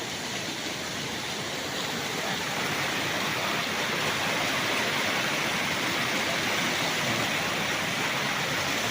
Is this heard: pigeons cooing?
no